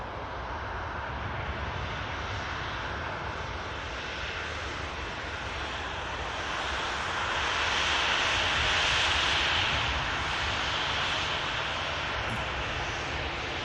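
At Manchester Airport an airliner taxis out, its steady jet-engine roar filling the air and swelling slightly midway before settling, with no voices.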